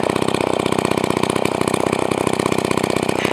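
Husqvarna 44 chainsaw engine idling steadily, a loud, close, rapid two-stroke putter with an even rhythm and no speech.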